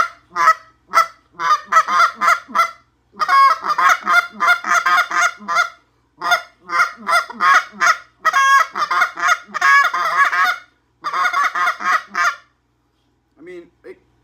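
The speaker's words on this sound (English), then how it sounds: "it's the cupped waterfowl SGR, I think, hammer call." A cupped waterfowl SGR hammer goose call is blown close and loud, giving bursts of sharp honking clucks in rapid, rhythmic runs separated by short pauses, ending with a few fainter notes.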